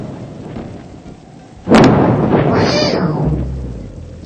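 A sudden thunder crack from a lightning discharge bursts out after a quiet stretch, followed by a long rolling rumble that stays loud to the end.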